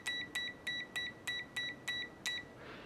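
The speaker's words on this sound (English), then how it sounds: "And on the beeping, yeah, that's much better." An Aneng 8009 mini multimeter gives its continuity beep in a steady series of eight short, evenly spaced electronic tones, faint and close in a quiet room.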